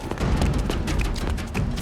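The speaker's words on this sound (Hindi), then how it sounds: "गोली चलने की आवाज कहाँ से?" A gunshot rings out in a dramatic indoor scene, a dull boom with low rumble and scattered sharp transients, fairly close and moderately loud, with no speech over it.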